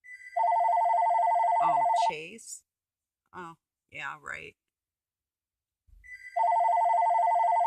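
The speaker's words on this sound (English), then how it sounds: "Well, anyway, it'll stop ringing." A telephone rings loudly and close with a steady electronic trill, stops while a person says a few words, then rings again after a pause.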